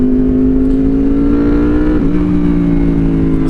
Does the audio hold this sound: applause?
no